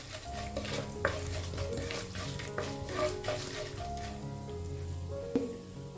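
Chana dal, urad dal, cumin and mustard seeds frying in hot oil for a bhaji curry tempering, with a steady close sizzle, frequent stirring scrapes and occasional sharp pops and utensil clinks, no talking.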